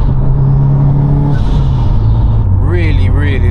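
Tuned 605bhp 2014 Subaru WRX STI engine while driving, heard from inside the car: a loud, steady low drone with a shifting pitch, then a rising and falling warble near the end, with a voice talking over it.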